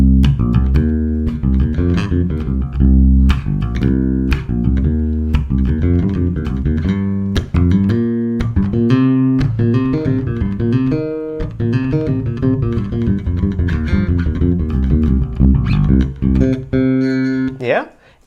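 A minor pentatonic bass line on bass guitar runs at full tempo, with quick, evenly plucked notes in a continuous busy stream that fades out at the end.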